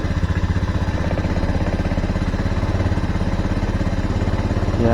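A Honda Scoopy PGM-FI scooter with a replacement K25 Beat Fi ignition coil, running with a loud, close, steady idle and an even putter throughout, with no talking over it.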